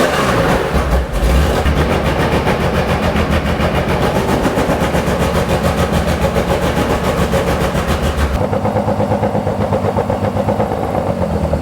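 A Porsche 911 2.8 RSR engine idles steadily after a coil pack repair, a loud, continuous rhythmic mechanical rumble with a sharp change in tone near the end as the engine note shifts.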